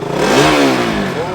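A used BS3 motorcycle engine in clean condition, heard loud and close as it starts and revs up briefly, then settles into a steady idle.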